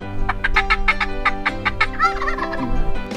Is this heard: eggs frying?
no